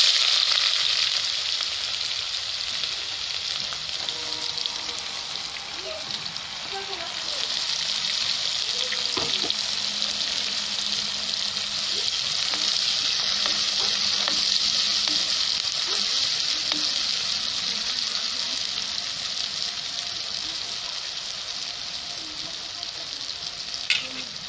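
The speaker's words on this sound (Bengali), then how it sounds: "এবার পেঁয়াজ দেব।" Onions frying in hot oil with black cumin seeds and chili for an egg curry with arum root, a steady, loud sizzle with occasional stirring scrapes throughout.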